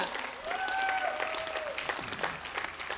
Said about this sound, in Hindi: तालियां मिलके बजाओ जरा, मेरा भी उत्साह बढ़ा दो भाई।